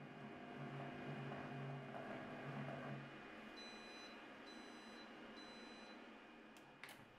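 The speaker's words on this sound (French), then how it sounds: "Le bip sonore indique la fin du programme." Three short electronic beeps from a Compact Cook Elite signal the end of its chocolate-melting program, in a quick, evenly spaced series over a low appliance hum, fairly quiet.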